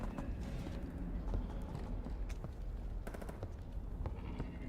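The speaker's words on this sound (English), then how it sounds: "Just gunshots outside my funny little cabin." Scattered sharp gunshot cracks in the horror video game Static Dread pop at irregular intervals over a dense, noisy background, fairly faint and distant.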